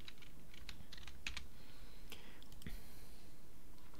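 Quick, soft keystrokes on a computer keyboard in irregular bursts, close but quiet over a steady background hiss.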